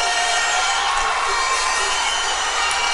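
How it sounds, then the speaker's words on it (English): A large rugby crowd cheers and roars steadily after a school match win, Vidyartha College over Kingswood College, a broad sustained wash of voices with no break. "look at this crowd. Look at how happy they are."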